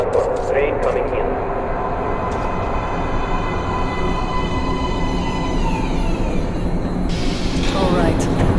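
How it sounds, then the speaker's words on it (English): Metro train arriving at an underground platform in the video game Metro: Last Light, a long rumbling roll with rising metallic wheel squeals and brief clanks, with a voice heard over it. "Train coming in."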